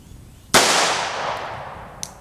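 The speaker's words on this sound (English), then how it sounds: "Precision shooting, 10 yards" A single loud pistol shot in 10-yard precision target shooting, a sharp crack that decays into a long ringing tail, followed by a faint click near the end.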